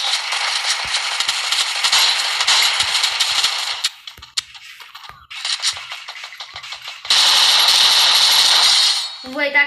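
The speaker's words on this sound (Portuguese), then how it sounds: "Você errou os tiros tudo no cara, Cauê." Video game gunfire in a multiplayer shooter, dense rapid bursts of shots close and loud, pausing briefly mid-way before another heavy volley, with players' voices under the action.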